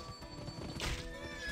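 A horse in the western action video game Gun whinnies briefly in a short burst over steady game ambience and music.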